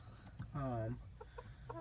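A single buff Brahma chicken gives a short, soft cluck-like call up close, followed by a few quieter chirpy clucks in a calm setting.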